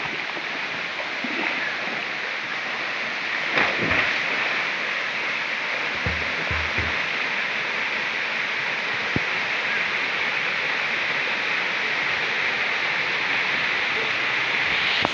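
Natural mountain spring water on Camotes Island, Cebu, rushes in a steady broadband wash, close and continuous, with a few brief knocks and splashes breaking through partway.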